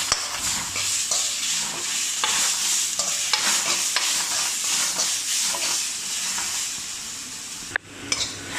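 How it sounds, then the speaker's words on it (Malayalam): Tomatoes stirred into frying okra and potato masala in a pan: a loud, steady sizzle with rhythmic spatula scraping and stirring strokes throughout, ending in a brief clatter. "തക്കാളി ഇട്ടിട്ടുണ്ടെങ്കിൽ ഇനി നമുക്ക് നല്ലോണം ഇതുമായിട്ട് മിക്സ് ചെയ്യണം"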